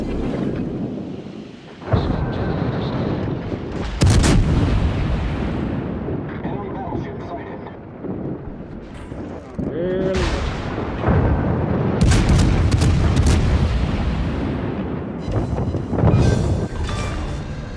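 Heavy booming naval artillery salvos from warships in World of Warships, several loud deep blasts with rumbling decay spread across the stretch, with a voice talking now and then.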